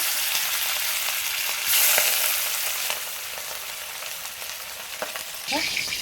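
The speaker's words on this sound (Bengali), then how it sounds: "আমি মাছগুলো এক এক করে দিয়ে লাল লাল করে ভেজে নিয়ে রান্নাটা করব" Katla fish pieces fry in hot oil for a spicy potato-and-stalk curry, giving a loud, steady sizzle throughout with a few brief clinks and stirring sounds, louder again near the end.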